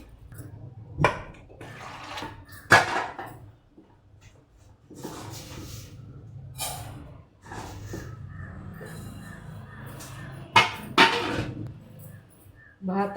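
Beans rinsed clean in a pot of water before going into a pressure cooker, with intermittent splashing and swishing bursts close by, separated by quieter stretches.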